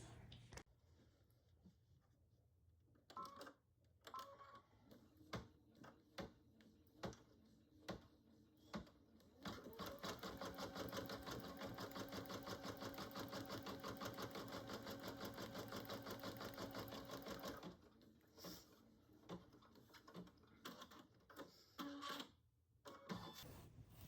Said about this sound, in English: So let's move it back to the machine so it can do that placement stitch.